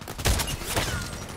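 An SVD-S sniper rifle fires a long-range shot in a shooter game: a single booming report with a brief echoing tail rises over steady background ambience, near and fairly loud, no talk.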